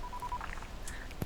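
A telephone being dialed in the video game Dying Light: a quick run of touch-tone beeps, followed by a short click, heard up close with no talking.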